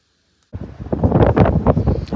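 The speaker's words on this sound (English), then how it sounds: "It's windy." Wind buffets a microphone outdoors at a community college building. Silence comes first, then a sudden loud, rumbling gust roars on steadily and unevenly to the end.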